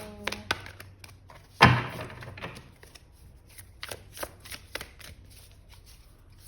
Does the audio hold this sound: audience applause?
no